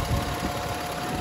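A 3.0-liter V6 in a Toyota Highlander 4WD idles steadily, a loud, close, even rumble with a faint whine above it and no talk.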